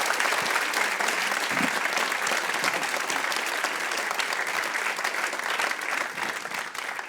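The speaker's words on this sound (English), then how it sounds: "everyone, huge round of applause" A lecture-hall audience gives a sustained round of dense applause, steady and full for the whole stretch, with no pause in the clapping.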